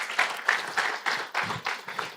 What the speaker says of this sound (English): a round of applause for her once again